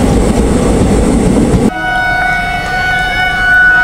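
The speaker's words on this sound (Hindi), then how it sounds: "यहाँ पे सिग्नल हो चुका है पंजाब मेल के लिए, जो अभी हमारी स्पेशल ट्रेन को ओवरटेक कर रही है।" The Punjab Mail thunders past loudly up close as it overtakes a special Jhansi–Pune train. The heavy rolling rumble cuts off abruptly, leaving sustained horn-like tones and lighter rail noise.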